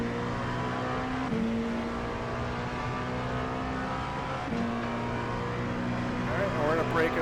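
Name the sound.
LMP2 race car engine accelerating in iRacing video game at Sebring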